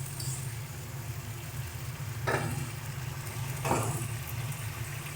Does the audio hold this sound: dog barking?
no